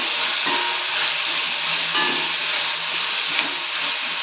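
Eggplant and potato pieces with chili powder sauté in a pan, a steady close hiss of frying with faint scattered stirring clicks and no voices.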